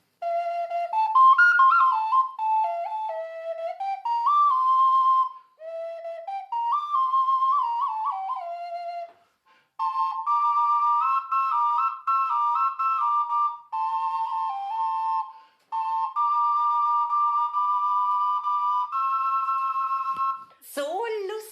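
A small bagpipe plays a lively, reedy melody with a steady drone, the phrases broken by short pauses, close and fairly loud.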